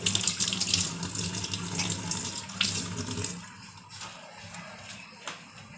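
Liquid pours through a fine tea strainer into a clean mug, a close steady trickle that thins out and fades to faint drips near the end.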